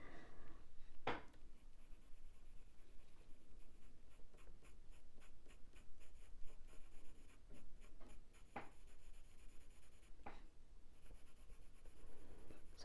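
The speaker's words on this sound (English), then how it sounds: "So I'm going back and forth with the pencil because I want to make it soft." A pencil shades back and forth on paper during a drawing of a ginger tom cat, a faint, steady scratchy rubbing that continues without pause and has a few sharper taps, with no voices.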